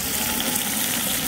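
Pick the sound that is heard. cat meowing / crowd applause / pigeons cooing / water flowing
water flowing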